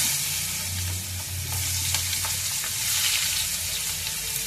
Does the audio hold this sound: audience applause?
no